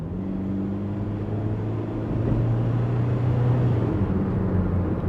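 A Volkswagen Transporter T7 van drives in sport mode with a steady, close engine drone and road rumble that swell slightly partway through, with no talking.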